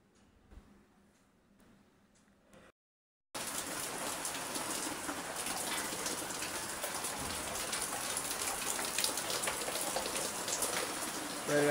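Steady outdoor rain falls after a quiet opening moment, with a dense, even hiss of drops that stays loud and constant to the end, and no voices.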